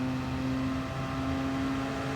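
A car engine in the racing game Gran Turismo Sport holds a steady, even drone with a sustained tone, with no rise or fall in revs and no one talking over it.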